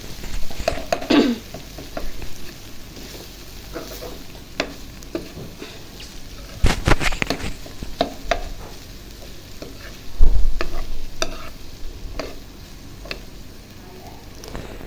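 Egg and eggplant mixture frying in a pan, with soft crackling sizzle and scattered stirring clicks and scrapes throughout, a few louder knocks of the spatula against the pan.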